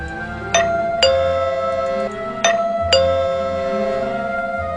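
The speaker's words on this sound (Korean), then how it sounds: "초인종 소리가 울린다." A doorbell chimes twice, each a two-tone ding-dong ringing out clearly indoors with the tones lingering.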